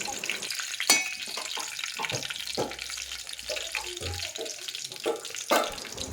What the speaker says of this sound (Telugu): తాలింపు మిరపకాయలు గంటతో అలా పెట్టుకోవాలి